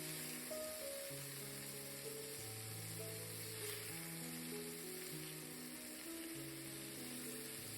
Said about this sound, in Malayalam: ഒരു മീഡിയം ടു ലോ ഫ്ലെയിമിൽ വെച്ചിട്ട് വേണം നമ്മൾ ചിക്കൻ ഫ്രൈ ചെയ്തെടുക്കാനായിട്ട്